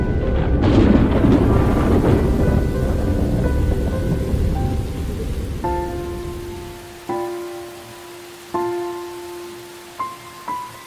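Steady rain pours in a dense wash at first, then thins as soft tonal calls of snub-nosed monkeys and sharp knocks rise above the fading patter.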